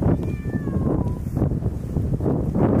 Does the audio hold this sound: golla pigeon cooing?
no